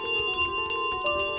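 In Untitled Goose Game, the golden bell rings with a bright, sustained metallic tone, repeated rhythmic strikes over a steady shimmer, loud and close.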